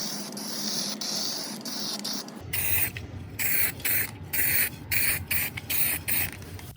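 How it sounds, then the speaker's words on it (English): Spray can fitted with an applicator attachment lays acrylic primer onto a car door, a long steady hiss followed by a series of short, evenly spaced bursts of spraying, close and fairly loud. "I'll use a special attachment on the spray can to make it easier to apply the primer"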